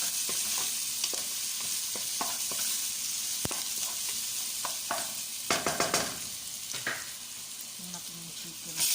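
Chicken pieces frying in a pan for chicken kaldereta, a continuous close sizzle with occasional stirring clicks and pops, no talk.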